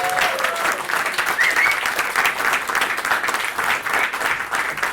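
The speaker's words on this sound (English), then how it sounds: "Another round of applause for Roydin, ladies and gentlemen." A comedy club crowd in Adelaide applauds after a stand-up set, a dense, even wash of clapping that holds steady throughout without fading.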